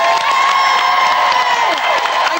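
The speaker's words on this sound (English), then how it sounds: "Round of applause for Zoe." Studio audience at a live Saturday-morning ITV1 children's TV show cheers, whoops and applauds loudly and continuously, a dense crowd roar with children's shouts on top.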